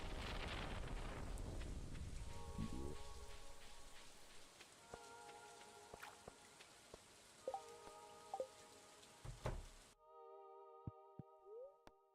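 Steady rain hisses loudly in Stardew Valley Expanded, with soft chiming game tones drifting over it. The downpour cuts off abruptly near the end, leaving only the faint tones.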